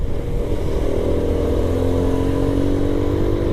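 Brand-new touring motorcycle ridden gently on light throttle, its engine a steady low drone with a mild even hum and no sharp revving, continuous and close for the whole stretch.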